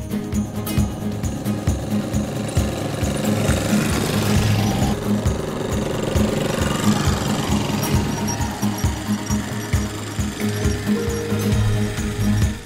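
Quad bikes run on an offroad course at a quad club meet in the Palatinate. A dense, loud, rapidly pulsing engine rattle continues throughout with mechanical clatter and no talking.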